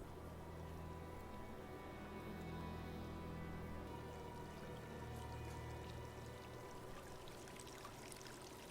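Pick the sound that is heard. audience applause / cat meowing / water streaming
water streaming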